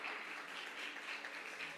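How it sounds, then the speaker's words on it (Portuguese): A church congregation applauding steadily, a dense wash of many hands clapping at moderate volume throughout, with no voices over it. "Uma salva de palmas em nome de Jesus."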